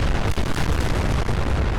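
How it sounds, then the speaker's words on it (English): A car explodes in the video game Fallout 4 inside a factory packed with cars, a loud, sustained rumbling blast that fills the whole stretch without any voices. "One gigantic explosion later, and I got a notification telling me every raider in the factory was now dead."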